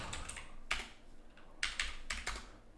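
A few short bursts of keystrokes on a computer keyboard while entering a command in Rhino 8 3D modeling software, sharp close clicks separated by brief gaps, alone and without speech.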